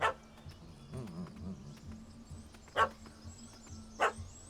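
A puppy in The Witcher 3 gives a few sharp, spaced barks, fairly close, over a quiet ambient bed with faint insect-like buzzing.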